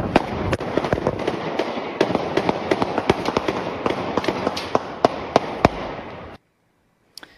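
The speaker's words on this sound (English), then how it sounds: "Then you hear gunfire." Rapid gunshots ring out in a street shooting on South Street, Philadelphia, captured on a cell phone: dozens of sharp cracks in irregular bursts over loud crowd and street noise, ending abruptly in near silence.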